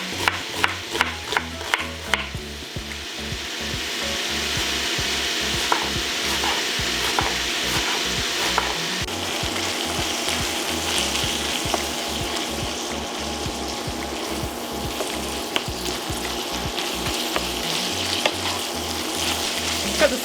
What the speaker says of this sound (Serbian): Dok se govedina prži